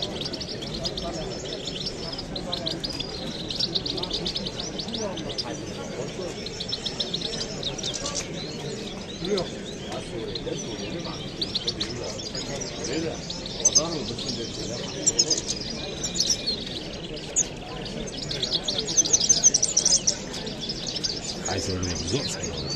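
Birds at a crowded outdoor bird market chirp and tweet steadily at moderate volume, with occasional cooing and a constant hum of people talking around the stalls.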